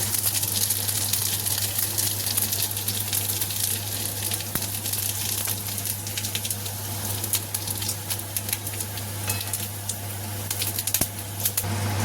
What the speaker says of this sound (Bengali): ওই কড়াইতে আমি তেল দিয়ে দিয়েছি। এবার দিয়ে দেবো গোটা জিরে।